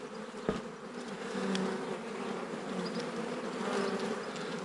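Honey bees buzz around an open beehive during an inspection, a dense, continuous droning hum with individual bees passing close, plus a brief knock near the start.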